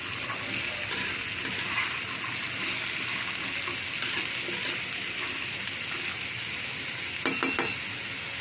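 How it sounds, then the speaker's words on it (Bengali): Pumpkin pieces stirred and tossed in a frying pan, a steady soft sizzle with faint scraping and a few clinks near the end, no talk. "আবার ওটা ভালো করে নাড়াচাড়া করে উলটপালট করে নেব"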